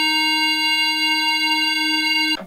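An Arturia MiniFreak synthesizer oscillator holds a single steady tone, its sine wave shaped toward a triangle for a richer, buzzier sound, sustained evenly and alone before cutting off abruptly.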